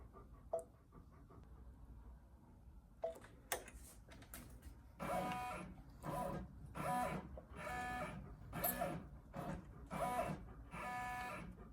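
A Brother PR1055x embroidery machine stitches a fleece pullover, starting with a few sparse clicks and then settling into a steady, rapid mechanical chatter of repeated needle strokes, fairly close and clear.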